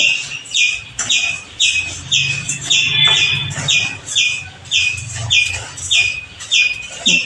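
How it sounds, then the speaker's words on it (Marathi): Loud, rapid chirping from several sparrows close by, repeated in busy bursts with short pauses, over a low background hum. "चिमण्यांचा किलबिलाट येतो आहे ऐकायला"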